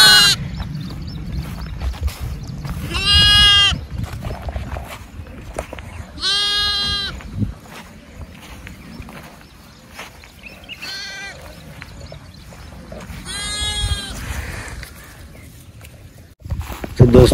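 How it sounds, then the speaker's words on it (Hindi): Young lambs bleating, several wavering high cries in separate bursts over a rough outdoor background with rustling and handling noise, close to the listener. "छोटे छोटे ये जो भेड़ के बच्चे हैं इनको लेके और ऐसे घूमते हैं"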